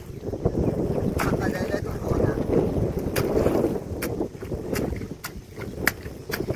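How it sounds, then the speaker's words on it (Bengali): Wind gusts across an open paddy field beside a canal, roaring steadily into the microphone with buffeting rumble, while a person talks over it in short bursts. "আরে মাঠে কি সুন্দর হাওয়া গো"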